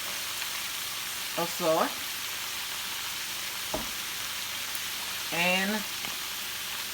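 Cabbage frying with bacon in a pan, seasoned with salt and pepper, gives a steady, even sizzle throughout, with a person briefly speaking over it twice.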